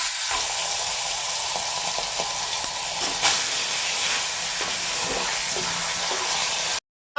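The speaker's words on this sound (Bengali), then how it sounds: "আমাদের মাছ ভাজা হচ্ছে দেখুন" Turmeric-coated pieces of rohu fish fry in hot oil in a pan, giving a steady, close spitting sizzle and hiss with a few louder pops before the sound cuts out.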